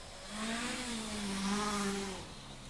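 A rally Fiat Uno powered by twin motorcycle engines races past at a distance, its engine note rising and falling in a buzzing, revving drone that swells and then fades slightly.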